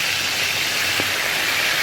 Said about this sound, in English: So now I'm frying.